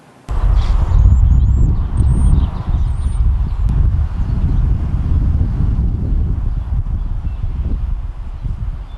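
Retired Thoroughbred racehorses outdoors at a county sheriff's department farm in Plymouth, with faint movement sounds under steady wind buffeting the microphone and a few distant bird chirps.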